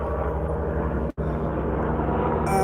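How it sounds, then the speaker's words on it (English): A helicopter drones steadily overhead, a continuous low rumble with layered engine and rotor tones, briefly cut out once midway. "Sounds like another helicopter."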